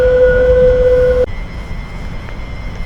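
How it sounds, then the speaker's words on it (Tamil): A tram train's loud tonal horn or whine holds steady in Turin, Italy, then cuts off abruptly, leaving a low rumble of the tram moving off. "நம்ம வந்த ட்ரெயின் கிளம்பி போகுது பாருங்கள்."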